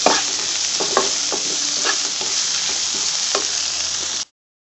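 Kothu chapati scramble fries in a pan, a steady close hiss of sizzling broken by repeated scraping clicks of a utensil stirring, with no talking, ending abruptly.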